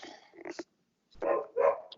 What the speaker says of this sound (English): Miss Kyra, I see your puppy dog.